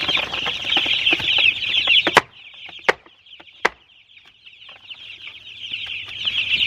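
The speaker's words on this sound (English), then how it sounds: "we added a couple more chickens" Several backyard chickens cluck and chatter nearby, with a few sharp clicks or taps in between, the clucking dipping briefly before resuming.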